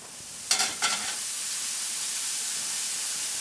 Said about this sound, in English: it's just going to go in the pan and let it cook a little bit